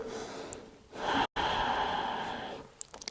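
Steady, close breathing during child's pose in yoga, a long airy inhale and exhale with a brief break in the middle, followed by a few soft clicks and nothing spoken.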